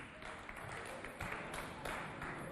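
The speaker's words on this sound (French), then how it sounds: "On l'applaudit bien fort, s'il vous plaît." Steady applause from an audience at a cultural centre event in Baba Moustapha, a dense continuous wash of clapping with faint voices mixed in.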